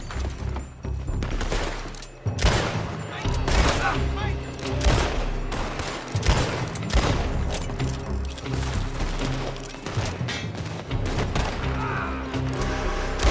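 Gunfire in a Red Dead Redemption 2 shootout, with rapid, overlapping shots and bursts that crack repeatedly at close range throughout, dense and loud, with occasional heavier booms.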